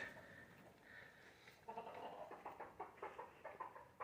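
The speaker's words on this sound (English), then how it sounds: "The chickens. Chickens." Soft clucking from chickens nearby, a rapid series of short bursts repeating, faint and close with light background noise.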